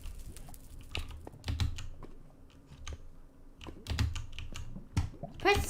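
Computer keyboard typing during a Minecraft game, with irregular bursts of clicky keystrokes, some rapid and some spaced, close and moderately loud, and a faint voice now and then.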